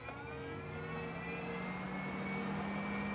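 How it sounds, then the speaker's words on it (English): An exhaust fan runs inside a Winnebago Travato 59G camper van, a faint, steady whirring hum with tonal whine that rises gradually, alone with no voices. "So for exhaust in here, you have this exhaust fan."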